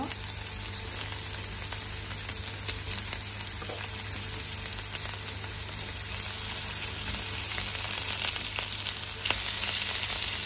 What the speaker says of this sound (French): Alors mes oignons là sont bien saisis, je vais ajouter ma kefta.